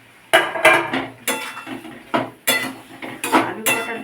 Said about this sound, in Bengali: এবার ভেজে রাখা আলু পটলটাও দিয়ে দিলাম